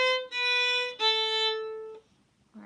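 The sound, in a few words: violin playing Bach sonata passage in half position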